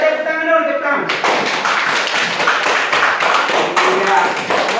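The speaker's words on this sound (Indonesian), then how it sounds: "Ya, tepuk tangan dulu, tepuk tangan." Schoolchildren in a classroom clap their hands together on cue, a burst of fairly loud, close clapping that starts after a moment of talk from the teacher, with voices mixed in.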